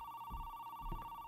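A telephone rings in the video game The Apartment, a steady electronic tone held through the whole moment, fairly faint, with soft thumps beneath it and no voices.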